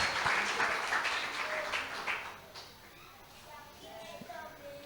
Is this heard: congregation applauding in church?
yes